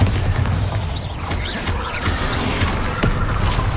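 Bombarda explosion spell going off in Hogwarts Legacy, a dense rumbling boom with repeated crackling blasts layered over a continuous loud low roar of game effects.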